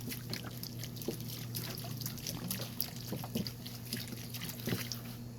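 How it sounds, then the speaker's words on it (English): Water trickles and pours onto soil around newly planted cucumbers, a continuous soft splashing with scattered drips over a steady low hum, close and moderately loud. "put some more water on here."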